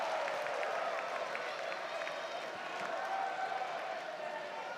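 A crowd at a Clemson vs Virginia college baseball game in Charlottesville applauds steadily. The dense, far-off clapping carries on without a break for several seconds, under a general stadium murmur.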